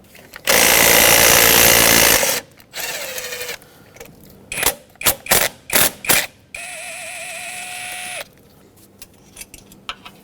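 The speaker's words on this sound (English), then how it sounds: "there are two 8mm headed bolts holding this fuel rail onto the intake manifold. Let's remove both" Two 8mm bolts come off the fuel rail of a 2011-2016 Ford F-350 6.2L V8. A power ratchet or drill whirs in loud bursts, with short pulsing runs and clicks between them, close up and without talk.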